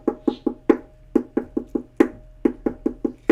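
Ukulele strummed in a triplet-based pattern with the middle stroke of every other triplet left out, giving crisp, close, evenly pulsing strums alone without talk.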